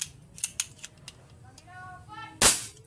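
Valente CO2 airgun firing a few sharp snapping shots in quick irregular succession, followed by one louder crack near the end, close by against a quiet background.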